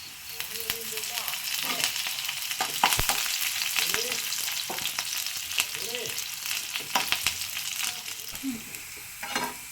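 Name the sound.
shallots and curry leaves frying in a pan for sambar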